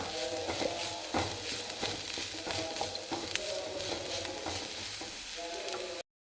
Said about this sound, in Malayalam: ഉള്ളിയും കൂടി ഇതിൻ്റെ അകത്തിട്ട് വഴറ്റുവാണ്.